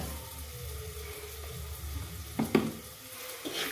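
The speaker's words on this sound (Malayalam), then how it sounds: "അപ്പോൾ നമ്മൾ ഉള്ളി ഏകദേശം ഒന്ന് വഴറ്റിക്കൊണ്ടിരിക്കാൻ കേട്ടോ" Sliced onions with a pinch of salt sauté in a pan, a quiet, steady sizzle broken by a few brief clinks and scrapes of stirring.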